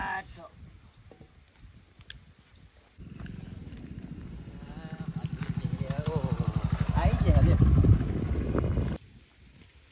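A motorcycle rolls up and settles into a rumbling idle that grows steadily louder and closer before cutting off, with people talking over it throughout.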